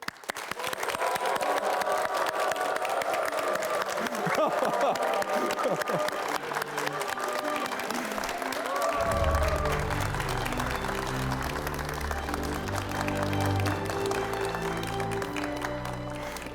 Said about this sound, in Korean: 오늘의 주인공인 김병래 구청장을 여러분의 박수와 환호로 맞도록 하겠습니다